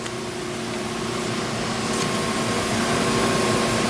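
The motor of a YFM-V8 automatic plastic open-end zipper injection machine runs with a constant broadband whir and faint steady hum, loud and even throughout with no pauses.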